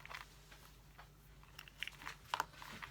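Dogs gnaw and play with a paper mailer envelope nearby, producing faint intermittent crinkles, bites and crunchy tearing sounds in uneven bursts.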